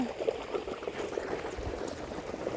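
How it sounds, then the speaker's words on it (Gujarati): A steady stream of irrigation water running and gurgling continuously nearby through a farm field channel, a constant liquid rush with no voices. "પાણી ચાલુ છે"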